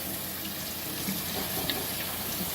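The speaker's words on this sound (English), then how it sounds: "Then hit this hot water." Hot water runs steadily from a tap, a soft continuous hiss and splash at moderate volume, with no talking.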